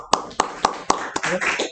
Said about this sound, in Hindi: एक बार इसके लिए पहले तालियां सारे